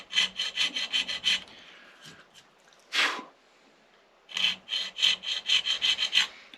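A file cuts string slots into a mandola nut in quick bursts of rasping strokes, with a sharp exhale-like scrape between two close, dry runs.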